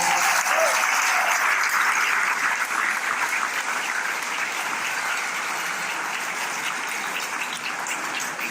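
Sustained applause from a large audience at a speech in Guadeloupe, steady and dense throughout, slowly easing slightly toward the end.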